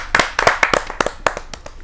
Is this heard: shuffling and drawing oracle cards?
no